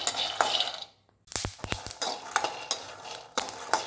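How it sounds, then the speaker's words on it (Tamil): Peanuts dry roast in a pan for a pirandai chutney, with dry rattling and spatula scrapes in quick bursts, a short pause, then more clattering stirs close by. "இப்போ நிலக்கடலையே நல்லா பொன்னிறமாக வர வரைக்கும் வறுத்துக்கணும்"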